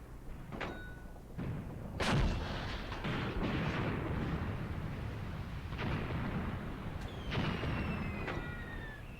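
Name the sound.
howitzer firing in Graviteam Tactics video game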